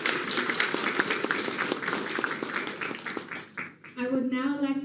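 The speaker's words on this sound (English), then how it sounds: "So please, one final round of applause." Audience applause at the Miss Pacific Islands 2025 pageant speech day, sustained dense clapping that fills most of the clip before fading, then a voice begins speaking near the end.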